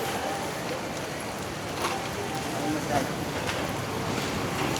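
Strong monsoon wind roars and buffets the microphone in a constant, loud rush of noise, with faint gusting swells throughout, in rainy weather at Divisoria market in Manila.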